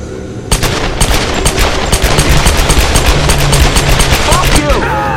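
Rapid pistol fire in the 2013 Tomb Raider video game, a dense, loud stream of sharp shots that runs almost without a break, with a brief lead-in before the barrage begins.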